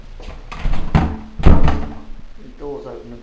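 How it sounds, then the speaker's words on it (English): A house's front door is opened and shut, giving several solid wooden thunks and knocks close by, with someone talking over and between the impacts. "The door's open and closed okay there, front door."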